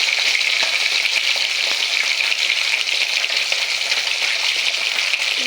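Tilapia fries in hot oil in a pan, producing a loud, continuous close sizzle and crackle that holds steady throughout with no talking.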